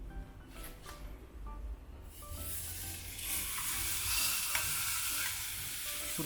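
Meat sizzling in a hot pan cooked by a home fireplace, a faint rising hiss that swells after a couple of seconds and holds steady, with soft stirring and clinking but no talk.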